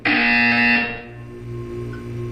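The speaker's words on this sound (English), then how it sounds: "You will hear a buzzer." A buzzer in the video game Portal 2, a loud harsh electronic tone held for about a second, then a low hum fading underneath.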